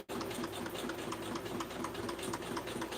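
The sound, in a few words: sewing machine stitching metallic thread slowly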